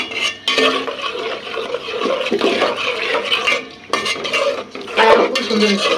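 Spice paste of kalonji and chilli frying in a pan before bottle gourd greens are added, with loud, repeated scraping and stirring strokes against the metal pan over an oily sizzle.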